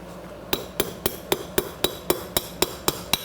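A hammer drives pins into the nut of a Wilton vise during restoration: about eleven sharp metallic strikes land at an even, brisk pace, close and clear, with no talking.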